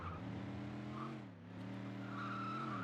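Car tires squeal and skid in Scarface: The World Is Yours, a steady tonal screech with engine harmonics that dips briefly midway before resuming, loud and close with no talk.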